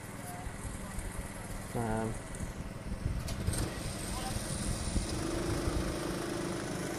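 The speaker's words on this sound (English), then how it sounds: "Jai Jordan opting to wait until Max Mottram is strapped in and has his engine going before Jai heads round." Racing car engine running before a race start, a steady mid-pitched motor drone with a brief revving rise early on, heard under continuous commentary.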